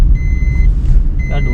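Car seatbelt warning chime beeping twice at a steady pitch inside a moving car, under loud low engine and road rumble.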